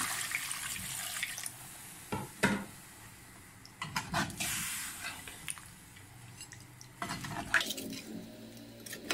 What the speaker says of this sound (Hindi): मैं इसमें पानी डालूँगी।